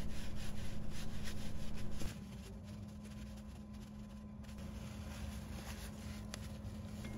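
A rag wipes leftover grease and debris off a grease fitting on a John Deere lawn tractor, a close rhythmic rubbing that is strongest for the first two seconds before easing into a softer, steady scrubbing.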